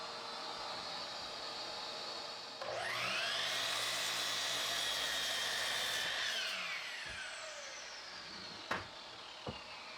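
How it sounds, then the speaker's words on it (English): A jointer squares 2x4 boards, its motor spinning up to a loud, steady cutting roar that holds for about four seconds before winding down, followed by a couple of sharp knocks. "On the joiner, which I've not tested since I fixed the clog, I get those nice and square"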